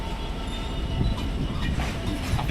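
A Maritime Class 66 diesel freight locomotive hauling an intermodal train passes through Newcastle Central station. Its deep rumble and wheel noise are steady and fairly close, with faint rail squeals and no talking.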